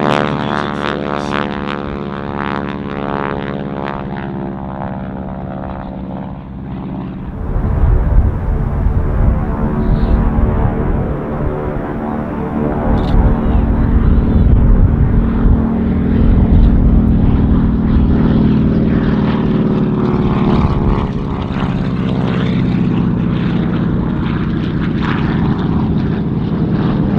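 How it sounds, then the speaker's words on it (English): A propeller warbird at the California International Airshow 2017 roars past in a loud flyby, its engine drone swelling and sweeping in pitch as it nears and passes, with no voices. "let you take pictures and listen to the sound of the plane"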